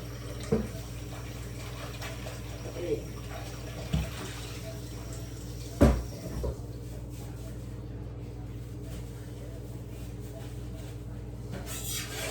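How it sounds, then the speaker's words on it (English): Raw salmon is rinsed under a running kitchen tap for steaming, a steady faint stream of water with a few soft knocks and splashes as the fish is handled. "So I wash it another time and I put a little more."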